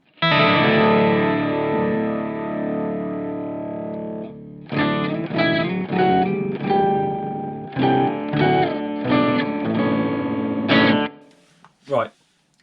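A guitar played through a Boss OC-5 octave pedal glitches on chords, giving a dense, warbling, distorted tone in sustained and choppy bursts, with a short pause between phrases and a brief blip at the end.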